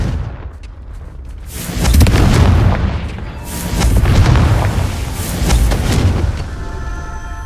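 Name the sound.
explosion from the Confringo spell in video game Hogwarts Legacy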